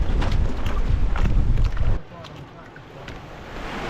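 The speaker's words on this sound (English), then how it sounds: "so even if we outrun the wind, which we're not managing to do right now, it's a bit serious" Wind buffeting and waves slapping around a small boat on Lake Wakatipu, loud and blustery for the first two seconds, then dropping to a softer rushing wash of water and wind.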